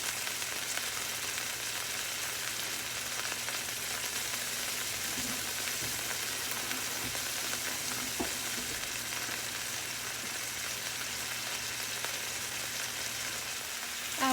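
Pork tenderloin sears in a hot pan with a steady, dense sizzle and crackle throughout, a few louder pops and stirring touches scattered in, no voices.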